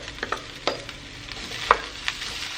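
Vegetables and bok choy fry and get stirred in a pan, a soft steady sizzle broken by a few sharp clinks and scrapes of a utensil against the pan, close and fairly quiet with no talking.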